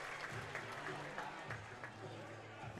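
Fans of both Monroeville and Mohawk clap steadily for an injured basketball player leaving the court at a district championship game, a dense sustained applause in a gym with commentary talking over it.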